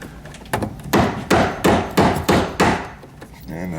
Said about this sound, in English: then you want to staple, like I said, within 6-8 inches of the box, loosely